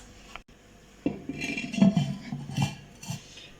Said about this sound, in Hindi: After mixing it, cover it with a lid and left it for 10 to 15 minutes.